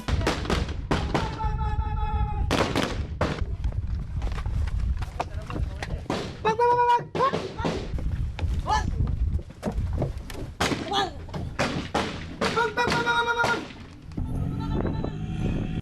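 Voices mimic automatic gunfire with rapid mouth-made bursts, several short volleys separated by pauses, mixed with shouting and noisy outdoor commotion.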